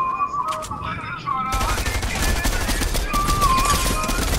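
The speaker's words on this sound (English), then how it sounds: "somebody's literally shooting me" Rapid automatic gunfire rattles loudly and continuously in a multiplayer video game, starting abruptly after a quieter stretch with electronic tones and faint chatter.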